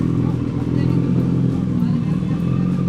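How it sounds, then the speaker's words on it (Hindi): A Kawasaki Ninja ZX14R motorcycle runs at a steady, throbbing idle just after starting, loud and close, with voices murmuring in the background. "अभी हम एक बार इसको स्टार्ट करते हैं, हल्की सी इन लोग को आवाज सुनाते हैं, बटन दबा देना है और ये बाइक स्टार्ट हो गई।"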